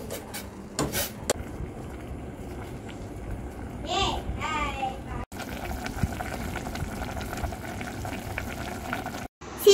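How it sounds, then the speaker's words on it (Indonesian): A pot of water boils with noodles and corn in it, a constant bubbling hiss with a few clinks and stirring sounds, and faint voices in the background. "Mie-nya aku masukin, udah mendidih dan jagungnya"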